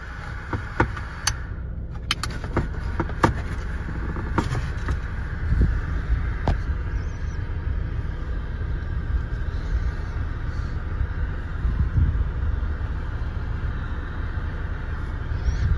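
A 12 volt car heater runs on its heat setting inside a car, a steady close whooshing fan and blower hum that holds level throughout, with a few faint clicks near the start and no voices.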